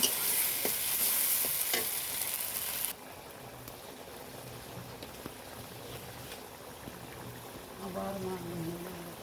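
Onion sizzling as ground chilli paste and ginger-cumin paste go into the pan, a loud hiss that drops to a quieter steady frying with soft stirring scrapes and a brief hum near the end.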